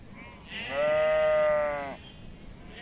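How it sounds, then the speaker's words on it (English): A single loud, close sheep bleat on an Azerbaijani farm rings out for about a second, with quiet farmyard background before and after. "we might need to catch the lamb before loading it in the back of the car"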